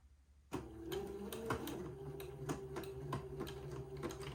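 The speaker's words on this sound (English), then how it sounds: "sew this gathered lace to the entredeaux" A sewing machine stitches gathered lace onto entredeaux, starting abruptly and then running steadily near and moderately loud, with a rhythmic mechanical patter of needle strokes and no talking.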